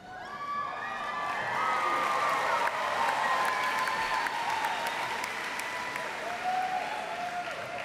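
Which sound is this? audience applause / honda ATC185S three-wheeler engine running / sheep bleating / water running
audience applause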